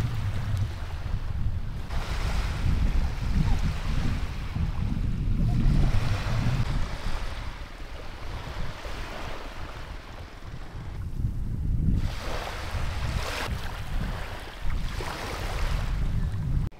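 Surf washing onto a long, empty sandy beach backed by thick forest and cliffs in Sulawesi, Indonesia, rolling in broad repeated swells with wind buffeting the microphone, steady and fairly close with no voices.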